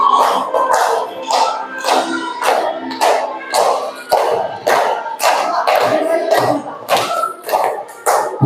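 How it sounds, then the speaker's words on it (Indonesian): Classroom group in Indonesia clapping in unison, a loud, rhythmic run of sharp hand claps at a steady pace with a faint crowd murmur between beats. "Terima kasih, tepuk tangan untuk kita semuanya."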